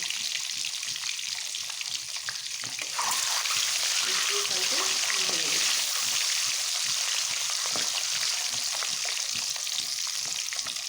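Eggs frying in hot oil, a continuous crackling sizzle that swells louder partway through and stays steady, with occasional splatters.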